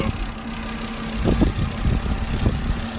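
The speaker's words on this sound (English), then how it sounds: "this car sounds pretty good" A car engine idles with a steady low rumble, punctuated by a few brief knocks or clunks, fairly close and with no talking.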